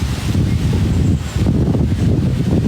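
Steady wind gusting and buffeting the microphone, a dense low roar that dips briefly midway before continuing.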